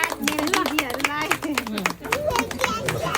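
Audience clapping at a wedding celebration, a burst of rapid, close applause from a small group, with people talking over it.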